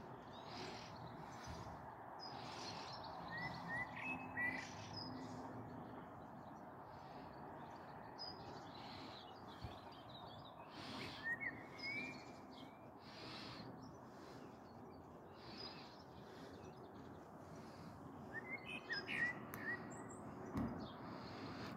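A blackbird sings from a tree branch, its short whistled phrases faint and distant, returning a few times over a quiet outdoor background hiss.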